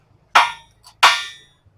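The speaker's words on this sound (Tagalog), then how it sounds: "Yan ang martilyo." A mechanic's hammer lands two sharp, loud strikes about two-thirds of a second apart, each ringing briefly before fading, with quiet in between.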